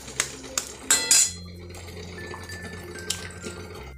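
Eggs cracked straight into a pan while cooking egg bhurji, a few sharp close taps and cracks near the start, then a steady low sizzle and hum with no talking.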